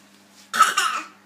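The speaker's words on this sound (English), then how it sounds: "It's a bad cough." A single harsh cough from an adult indoors, short and close, rising suddenly out of quiet with a low hum behind it.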